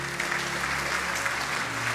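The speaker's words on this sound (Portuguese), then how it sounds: "Vamos lá, alguém aplaude o Senhor" Congregation applauding during a church sermon, a dense, steady wash of clapping from many hands that holds for the whole stretch with no talk over it.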